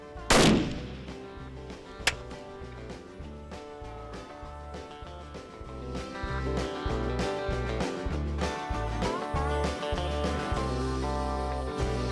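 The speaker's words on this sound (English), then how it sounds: "he makes a great shot on this beautiful antelope buck" A single loud rifle shot cracks out near the start while hunting an antelope buck in Colorado, followed by a faint second pop and then steady background music.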